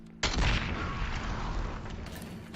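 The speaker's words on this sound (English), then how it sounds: "So, lawyer taken care of in an explosion accident." A sudden loud explosion in the stealth video game Hitman 3, Home Invasion contract, hits with a sharp blast and then rumbles on as a dense, sustained roar for about two seconds before easing off.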